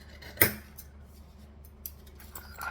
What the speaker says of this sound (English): Scissors. Trim these so that it's now even.